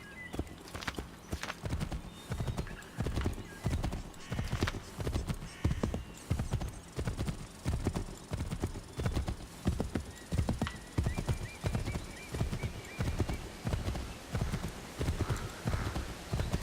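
Horse hooves clip-clop at a steady trotting rhythm in Assassin's Creed III, loud and continuous, with a horse neighing and whinnying over the hoofbeats.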